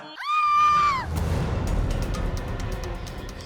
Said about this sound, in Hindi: ये किसकी चीख थी?